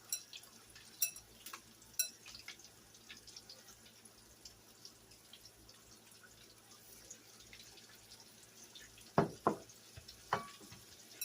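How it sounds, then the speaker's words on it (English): Copycat Popeyes-style coated chicken frying in grease, a quiet steady sizzle with scattered pops and crackles, a few sharper bursts near the end, no talking. "once you're done frying, that you got all of your chicken coated"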